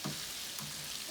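Shrimp frying in a pan give a soft, steady sizzle and crackle, faint and even throughout a brief moment with no talk.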